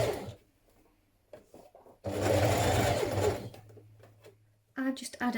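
A sewing machine makes a short burst of close stitching while understitching a blouse neckline, surrounded by quieter handling noises and a brief voice near the end.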